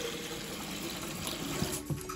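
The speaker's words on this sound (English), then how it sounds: "I have this pot and I'm going to fill it up with water." Tap water pours steadily into a small cooking pot in a home kitchen during Thanksgiving meal prep, a continuous close rush of filling liquid with a slight splash near the end.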